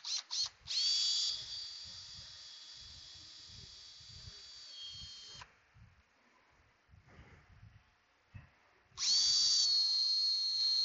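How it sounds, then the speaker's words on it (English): A cordless drill spins a wire brush against Tesla Model 3 brake caliper pins, two loud whining bursts at start and end with softer clatter and tool handling in between, no talking. "I got a wire brush and one of my drills in here"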